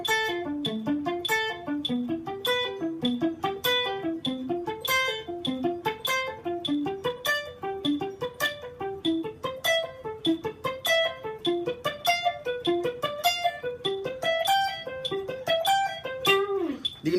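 An electric guitar picks a continuous run of triplets, using economy picking, against a steady metronome click, winding up and down through a pattern.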